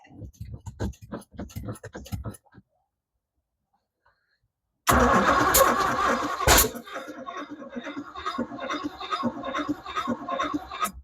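A boat engine with a suspected timing fault is cranked after clicking and a silent pause, then catches in a loud sudden burst with a sharp backfire-like pop before settling into a rough, uneven running drone nearby.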